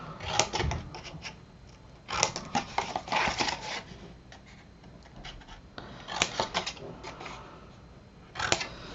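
Scissors snip through the corners of a chipboard craft album in several bursts of crisp, close cutting and rubbing, with quiet pauses between the cuts.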